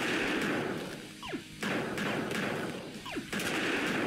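Gunfire in Casual Pixel Warrior, a pixel-style shooter: a dense, continuous roar of rapid shots and impacts, broken by two brief swooping lulls, loud and close throughout.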